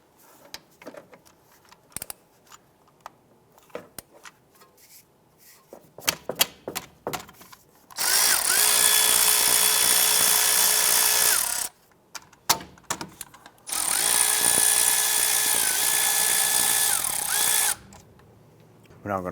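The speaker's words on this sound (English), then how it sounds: "I'm gonna go ahead and remove these bolts on the back side." Power tool, likely an impact driver or drill, removing 12mm bolts on a 2001-2005 Honda Civic during CV axle work: two loud, sustained whirring bursts of a few seconds each, preceded by clanking and handling sounds.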